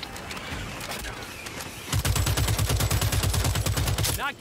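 Gunfire in the co-op game Left 4 Dino as raptors are shot: scattered shots at first, then a loud, steady automatic burst of rapid regular reports that runs for a couple of seconds before stopping.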